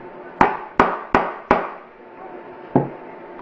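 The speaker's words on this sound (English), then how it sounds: "if you use a hard rubber mallet or a hard mylar, you can go ahead and pound it to the frame" A hard rubber mallet taps a pin into a Sig P229 pistol frame: four sharp, evenly spaced knocks in quick succession, then a pause and one more tap, close and crisp with short ringing decays.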